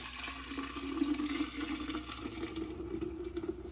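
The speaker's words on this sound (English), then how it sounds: "let's go ahead and add this in our pitcher" Hibiscus and watermelon agua fresca pours steadily into a pitcher with a gurgling, rising tone, close by and fairly quiet, with no talking.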